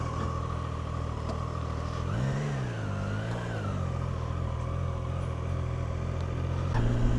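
A Triumph Tiger 660 Sport with a three-cylinder engine pulls away in first gear, its engine note rising and falling as it accelerates under steady wind rumble.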